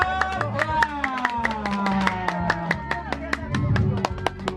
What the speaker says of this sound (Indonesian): Oke, tepuk tangan yang meriah.